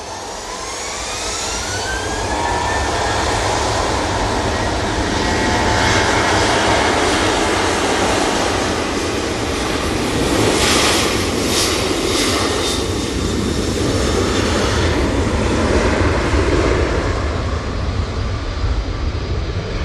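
A departing Emirates jet airliner at Manchester Airport delivers a loud, sustained engine roar that builds within the first couple of seconds and stays powerful throughout, with a faint rising whine early on and no voices.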